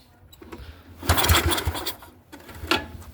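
A neglected old Yamaha snowblower engine cranks and tries to start, giving two short bursts of rough, sputtering turning-over with quiet gaps between them, close to the microphone.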